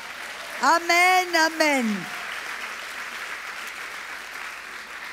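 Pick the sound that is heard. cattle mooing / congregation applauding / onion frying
congregation applauding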